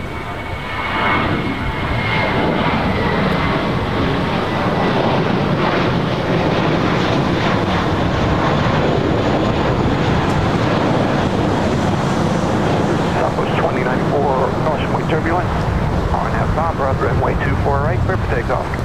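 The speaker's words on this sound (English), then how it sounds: "we've got a JetBlue A321 now taking off." A JetBlue Airbus A321 jet taking off, a loud sustained engine roar that swells and rumbles for nearly twenty seconds, with wind buffeting the microphone and a voice talking over it.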